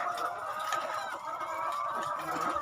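Chickens on an egg farm cluck and squawk in a dense, continuous chorus from many birds at once, close and fairly loud, with no talking.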